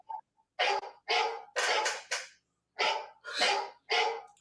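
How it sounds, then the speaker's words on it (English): A phone ringtone of dog barks plays in a rhythmic series of sharp, repeated yaps with brief pauses between them, fairly clear and close. "That's barking. That's my phone now."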